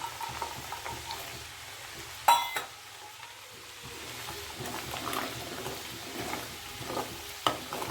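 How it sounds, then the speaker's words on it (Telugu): Onions fry and sizzle steadily in a pan for a South Indian fish pickle, with occasional stirring scrapes and a couple of sharp utensil clinks, and no talking. "ఎల్లిపాయలు మంచిగా మాడాలి."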